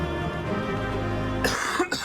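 A single cough bursts out near the end, right after a steady stretch of game music and background tone, followed by a short second throat sound.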